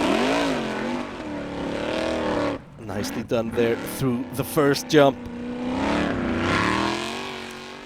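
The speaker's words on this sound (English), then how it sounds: "Drivers seem to be just flooring it, hoping that the car will land on top of the hill." Formula Offroad cars at full throttle climbing a hill, engines screaming and sweeping in pitch with sharp revving bursts as the throttle is blipped over jumps, heard from a distance under an excited commentator.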